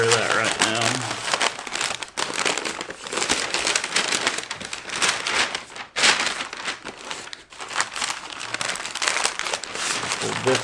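Dense, loud crinkling and crumpling of wrapping being folded up around the ends of a pork butt for smoking, continuous close rustling with brief pauses.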